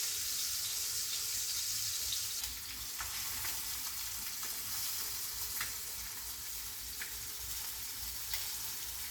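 A thin fish fillet frying in a pan for a fish dish with blood orange salsa; steady, close sizzling and crackling throughout, with occasional sharper pops.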